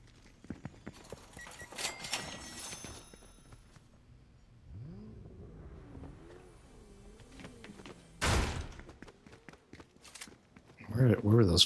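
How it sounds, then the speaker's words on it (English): Footsteps in the game Fortnite, a quick run of clattering steps early on and more scattered ones later, faint to moderate under voices, with a sharp bang near the end. "Where were those footsteps at?"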